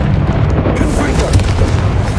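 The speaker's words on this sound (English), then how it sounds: "Confringo!" A Confringo blasting-spell explosion in Hogwarts Legacy, heard as a loud, rumbling boom that fills the clip during a close battle, with a spoken spell call heard over it.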